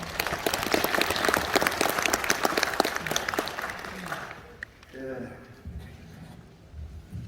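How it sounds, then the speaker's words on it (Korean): Applause from the audience at a 3.15 Uprising commemoration ceremony in Gwangju, steady and dense for about four seconds and then fading out, with a voice speaking briefly afterwards. "여러분 박수 부탁드립니다"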